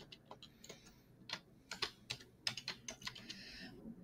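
Keys clatter on a computer keyboard in quick irregular bursts of close, crisp taps, with brief pauses between strokes in a quiet room.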